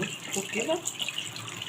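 Tap water runs steadily into a sink while raw chicken is rinsed under it. The flow is faint and continuous, with someone speaking briefly over it.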